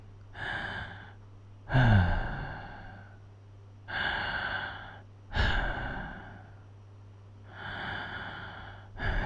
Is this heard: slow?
yes